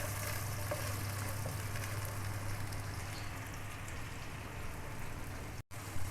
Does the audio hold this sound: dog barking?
no